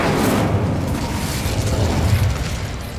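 A fire spell cast in Hogwarts Legacy gives a loud, continuous roaring burst of flame lasting a few seconds, dense and booming in the low end, with no voices.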